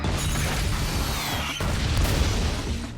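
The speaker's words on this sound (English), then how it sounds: "This pumpkin bomb is just an explosion pumpkin bomb. It truly is a bomb." Pumpkin bomb from the 2002 Spider-Man film bursting in a loud, sustained explosion with rumbling roar, a sharp jolt partway through and continuing debris-laden blast noise.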